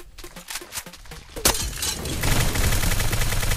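A Killjoy turret firing in Valorant, with scattered sharp shots and clicks, then one loud crack, followed by a steady, rapid stream of gunfire that grows louder and continues to the end.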